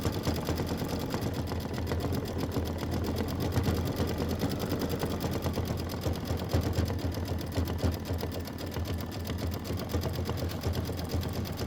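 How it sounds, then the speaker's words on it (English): Embroidery sewing machine stitching a snowflake detail on a Kimberbell Enchanted Winter quilt block, a loud, steady, rapid needle hammering and motor whir running continuously throughout. "And then we're going to stitch the snowflake detail."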